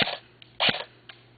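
A D-boys M4 airsoft rifle fires outdoors at a long-range target by a tree in a light breeze, giving one sharp, loud snap followed by a fainter click or two.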